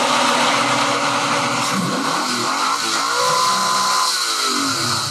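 A Pontiac Trans Am engine runs loud and close, a harsh steady roar with revs swelling and falling through the middle and a dense mechanical rattle throughout.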